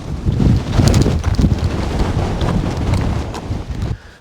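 Wind roaring in a subzero winter snowstorm at a wild camp, loud gusty buffeting across the microphone that stays steady and close for several seconds, with no voices.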